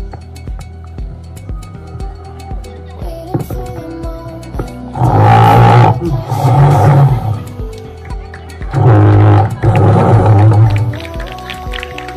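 Lion roar sound effect played during an outdoor student street play on forest conservation, two loud long roars in a row, each with a following growl, over a quiet background hum.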